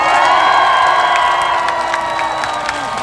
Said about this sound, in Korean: 박수 한번 크게 보내주세요.